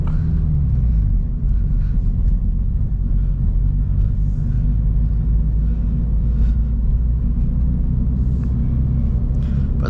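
Subaru BRZ cruising on a road at daytime, a steady loud low engine and road rumble heard from inside the car, constant with no breaks.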